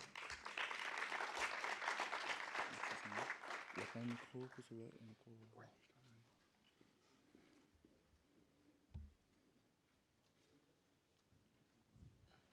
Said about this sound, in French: Je vous demande d'applaudir Christian.